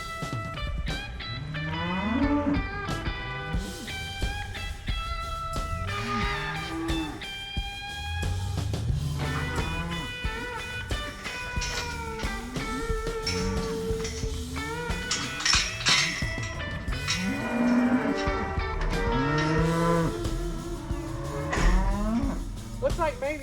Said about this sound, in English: There's the heifers or bulls.